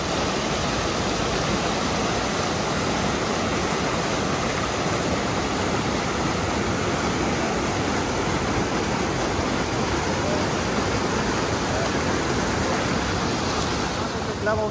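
A cold, snow-fed mountain river near Manali rushes steadily and loudly, a dense, unbroken roar of flowing water close by with no pauses throughout.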